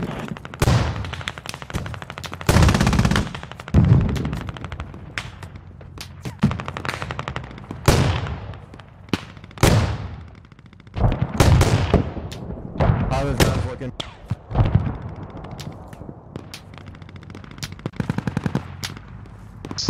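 Mortar salvos and gunfire in the video game Squad, on the Fools Road map, come as loud repeated bursts: sharp rattling shots and heavier booming impacts in uneven clusters, with brief quieter gaps between them.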